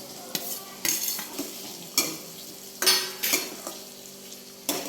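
Boiled potatoes and onions for batata poha are stirred in a pan with spices, giving a string of sharp scraping spoon strokes at an uneven pace over a low sizzle, close and moderately loud, with no talking.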